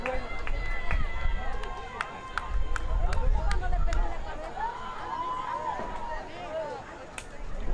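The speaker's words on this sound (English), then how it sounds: "That draws a hearty cheer from the White Plains contingent here at Mamaroneck High School" Spectators at a boys' varsity high school soccer match at Mamaroneck High School raise a swelling cheer with shouts and whistles, mixed with field chatter and running feet.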